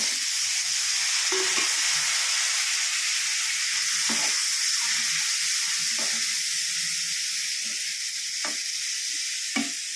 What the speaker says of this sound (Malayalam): മഞ്ഞൾപ്പൊടി അങ്ങനെ പൊടികളെല്ലാം കൂടെ നമുക്കങ്ങ് ഇട്ട് കൊടുക്കാം എന്നിട്ട് നമുക്ക് ആ ചക്കക്കുരു അങ്ങ് അങ്ങിട്ട് കൊടുക്കാം